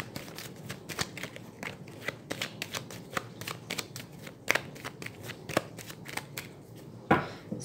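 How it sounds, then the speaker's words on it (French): A tarot deck is shuffled and cut by hand up close, a quick run of crisp riffling flicks and soft card slaps, fairly quiet, ending in a brief louder riffle. "je vais faire un tirage, une coupe, donc avec mon tarot que j'utilise pour la divination et les prédictions"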